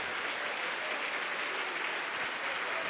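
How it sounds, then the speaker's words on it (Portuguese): A church congregation applauds steadily through the whole stretch, a dense continuous wash of clapping with no voices standing out. "Pode aplaudir o nome de Jesus"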